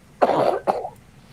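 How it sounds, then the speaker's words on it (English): Two quick, harsh coughs close by, the second shorter than the first, then quiet. "just coughing into my elbow"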